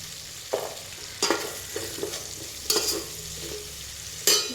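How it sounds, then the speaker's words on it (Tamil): Whole garlic cloves fry in a pan for a Tamil karuvadu (dried fish) kuzhambu, a soft steady sizzle broken by several louder stirring scrapes at irregular intervals, close and with no talking. "பூண்டு, முழுசாகவே போடுறேன்"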